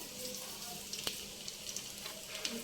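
Mustard seeds and ginger pieces sizzle and crackle in hot oil for a pongal tempering, a steady close frying hiss with scattered small pops and light stirring scrapes.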